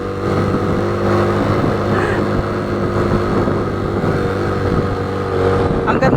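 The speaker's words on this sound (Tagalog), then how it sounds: "Umuuwang na yung makina." A motorcycle engine labors while climbing a steep mountain road in Dumalag, Capiz, droning loudly and steadily up close with strained, wavering tones throughout.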